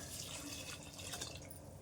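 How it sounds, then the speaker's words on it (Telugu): Water pours steadily into a cooking pot in a home kitchen while pappucharu (sambar-style lentil soup) is being made, a continuous close trickling and splashing that runs throughout with no talk. "తర్వాత వాటర్ పోసేస్తున్నాను"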